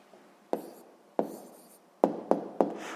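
A pen writes on paper during a sixth-grade maths exercise, heard as five short scratchy strokes at a steady pace, each a quick tap and scrape, close and clear with no talking.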